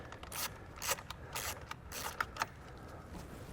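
A socket wrench unscrewing a nut during a Curt T-connector wiring harness install on a 2023 Mazda CX, close ratcheting clicks in quick irregular bursts with mechanical rattles between.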